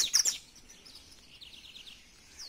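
A young seedeater (coleiro) bird sings in a cage, a short burst of bright chirps followed by thin, hesitant high twitters, faint and alone without talk.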